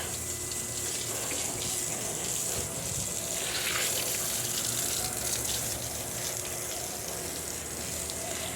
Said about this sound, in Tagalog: Linis time, washing the floor.